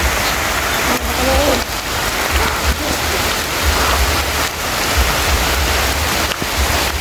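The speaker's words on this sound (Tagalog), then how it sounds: "malakas yung ulan" Heavy rain pours steadily, a dense, continuous hiss of drops drumming on surfaces with a low rumble underneath.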